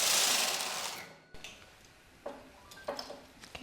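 A knitting machine carriage is pushed across all needles to knit rows: a rushing mechanical sweep first, then a lull, then scattered close clicks and ticks from the needle bed.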